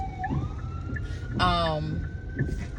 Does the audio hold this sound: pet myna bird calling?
no